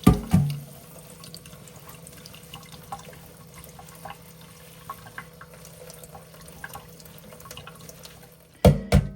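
Redbud blossoms are rinsed under a cold running kitchen tap. A steady stream of water splashes close by for several seconds, with light drips and the clatter of handling at the start and end.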